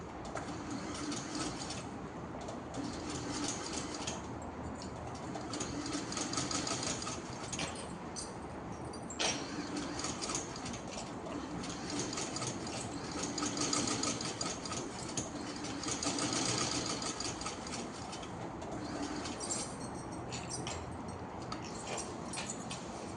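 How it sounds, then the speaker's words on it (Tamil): A sewing machine stitches fabric during a tailoring lesson, its steady motor hum and fast needle patter running continuously at low level, with faint bird calls in the background. "கொண்டுட்டு வந்து இப்போ தைக்க ஆரம்பிங்க."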